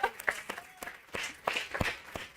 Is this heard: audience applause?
yes